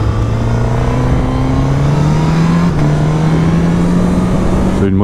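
A 2021 Suzuki GSX-S 1000 motorcycle engine runs loud and close with a raspy airbox growl, its pitch rising slowly and steadily before cutting off abruptly at the end.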